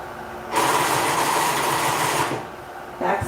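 A sewing machine runs in one steady, loud burst of about two seconds while back stitching, then stops, and a second short run starts at the end.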